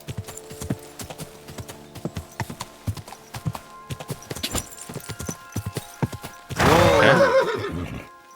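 A horse in Kingdom Come: Deliverance II clip-clops along at a steady trotting rhythm, then lets out a loud, close neigh near the end. The scene has no speech.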